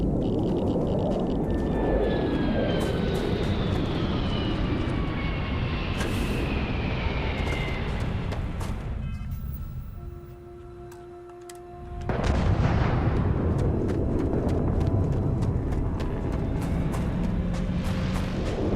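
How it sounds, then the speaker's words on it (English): A spaceship landing in the video game Starfield: a loud, roaring engine rumble with descending whining tones, dropping into a brief quieter lull with a steady hum, then a heavy blast of thrust returning and continuing, no talk. "as soon as we're here, we get another ship landing"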